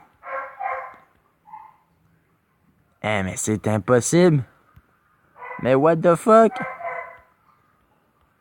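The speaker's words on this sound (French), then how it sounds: "Le chien qui gosse en plus derrière moi, c'est super fatigant." A dog barks somewhere behind a man indoors. The short yaps come in bursts at the start and under his excited French talk.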